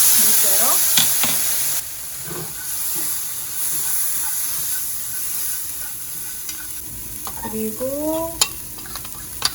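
Anchovies and nuts sizzle in a hot pan while being stir-fried, a steady hiss with clacks of a spatula scraping and tossing, as someone talks briefly over it.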